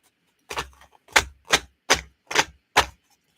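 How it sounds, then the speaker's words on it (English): Tarot cards being shuffled, six crisp separate riffling bursts in a steady rhythm, close and distinct against near silence. "let me go ahead and shuffle one more time"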